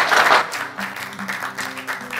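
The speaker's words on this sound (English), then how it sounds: "Let's give a big round of applause." Audience applause at the opening ceremony of a 2019 trainee program, a brief burst of clapping that is loudest at the start and then thins out, with tonal music sustained underneath.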